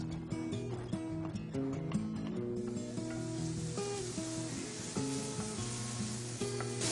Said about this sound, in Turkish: Kuru soğanlarımızı bir miktar kavurduktan sonra madımamızı içine ilave ediyoruz.